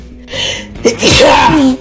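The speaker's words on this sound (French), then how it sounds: "fallait que j'éternue" A person sneezes once, loudly and up close: a quick indrawn breath builds, then bursts into a forceful, harsh exhale.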